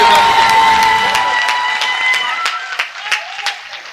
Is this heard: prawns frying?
no